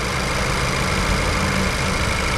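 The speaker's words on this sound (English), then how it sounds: "you can listen to the engine" A 2018 Honda Civic Si's turbocharged 1.5-liter engine idles steadily with a smooth, even hum and low rumble, close and continuous with no talk.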